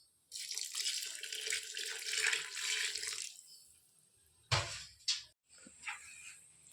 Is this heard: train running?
no